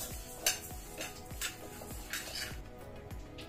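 Moong dal being stirred and fried in a pan, a spoon scraping and knocking against the metal in a steady rhythm of about one stroke every half second, close and fairly quiet with a soft background hiss.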